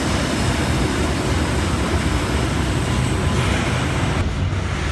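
A Sydney Waratah set train makes a steady, loud rolling roar with broadband rail and motor noise, continuous and close, with no voices.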